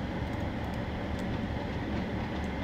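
Class 37 diesel locomotive from Train Sim World running on a West Cornwall local service, a continuous rumbling roll with faint rhythmic wheel clicks over the rails.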